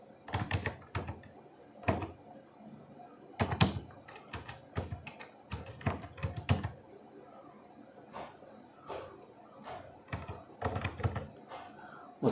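Someone enters card details on a computer keyboard, producing bursts of close, crisp key clicks in quick irregular runs with short pauses between them.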